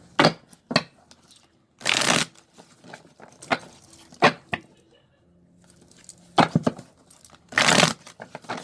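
Tarot cards being shuffled close up: several loud riffling bursts separated by quieter pauses, soft taps and card slides in between.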